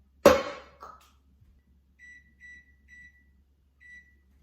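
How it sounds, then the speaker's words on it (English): An oven's control panel gives a sharp touch sound and then four short electronic beeps in an uneven sequence as it is set to preheat, close and quiet in a silent kitchen. "Oh, wait, I have to preheat the oven."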